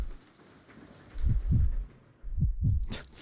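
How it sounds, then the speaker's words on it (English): Heartbeat sound effect from the Resident Evil video game, two pairs of deep, muffled thumps in a lub-dub rhythm, heavy and close over a soft background hiss. "heartbeat sound effect"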